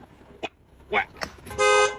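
A short car horn honk sounds near the end, following a few brief voice fragments and knocks.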